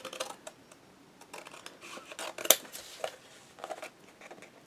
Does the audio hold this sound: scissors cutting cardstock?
yes